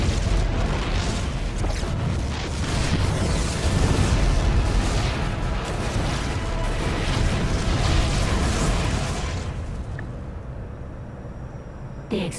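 StarCraft 2: Heart of the Swarm campaign explosions, a dense barrage of booms and rumbling blasts that stays loud and continuous, then drops away into near-quiet in the last seconds.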